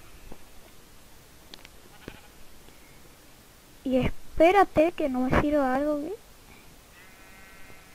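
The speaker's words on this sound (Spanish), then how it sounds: "Dos ovejas." Sheep in a video game bleat several times in quick, wavering calls, loud and close, while a player talks over quiet game sounds before and after.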